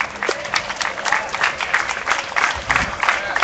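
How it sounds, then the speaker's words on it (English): An audience applauds Michael Kaufman after his pitch at a #NoCoalinOakland gathering, with dense, steady clapping from many hands that holds at a constant level for several seconds and has no voices over it. "Let's put our hands together again for Michael Kaufman"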